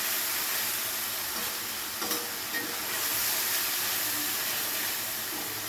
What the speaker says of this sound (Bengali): পেঁয়াজের সাথে খুব ভালো করে ভেজে নিতে হবে যাতে কাঁচা গন্ধটা না থাকে।